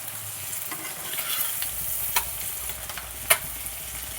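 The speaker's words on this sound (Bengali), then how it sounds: "ডিমটা অর্ধেক করে নুন হলুদ মাখিয়ে একটু ভেজে নিচ্ছি" A halved egg coated in salt and turmeric fries quietly in a pan, giving a soft continuous sizzle with a few faint scrapes and one sharper clink, with no voices.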